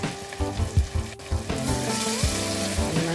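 Ghanaian kontomire spinach stew sizzles and bubbles steadily in a pot with constant frying hiss, broken by a few soft stirring knocks and clinks, close and fairly loud.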